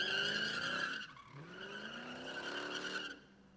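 A drifting car at a pit event, driven with gas-brake action, skids with loud, sustained tire squeal that dips briefly and then rises again with engine revving.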